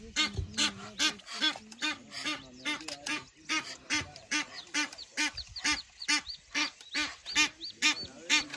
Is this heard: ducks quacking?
yes